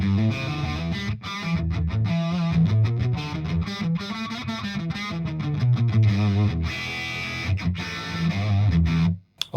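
An electric guitar runs through a Walrus Audio Melee fuzz and distortion pedal and plays a thick, saturated riff of sustained chords and notes that continues loud and steady, then cuts off abruptly at the end.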